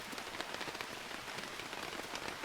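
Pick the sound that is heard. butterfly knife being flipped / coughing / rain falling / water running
rain falling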